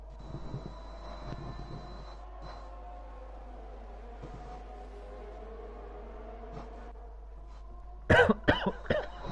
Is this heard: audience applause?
no